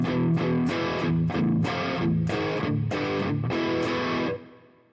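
Distorted electric guitar played through the Range 120 amp app by Nembrini on iOS, rhythmic chugging chords with heavy effects and reverb, loud and alone, ringing out at the end.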